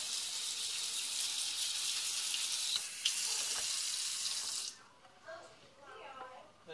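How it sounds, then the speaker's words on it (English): Tomato seeds are rinsed in a strainer under a running kitchen tap, giving a steady close hiss of flowing water that cuts off sharply. A brief quieter trickle and some clinks follow. "I take it and I rinse them off pretty good"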